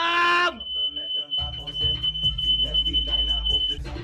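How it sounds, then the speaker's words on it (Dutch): A loud, steady high-pitched smoke alarm beeping continuously, with voices and background commotion underneath. "Het alarm is afgegaan!"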